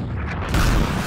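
Sniper rifle shot in an anime fight scene, a single booming blast that swells about halfway through and rings on as a dense, loud roar.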